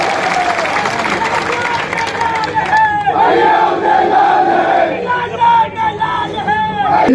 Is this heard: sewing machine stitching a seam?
no